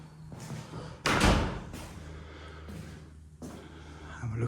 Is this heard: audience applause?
no